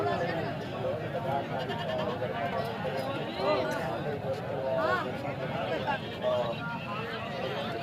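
Goats bleat repeatedly amid a noisy outdoor crowd at a goat market, with people talking throughout over the wavering calls.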